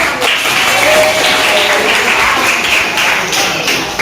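A classroom of students claps for a classmate, a loud, dense burst of applause that holds steady for a few seconds, close and full, with a voice faintly audible beneath it.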